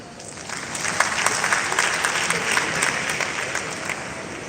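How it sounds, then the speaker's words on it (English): Steady applause from a seated audience at a professional development session, a dense wash of clapping that swells slightly and holds at moderate distance with no talk over it. "Please, let's clap for her again."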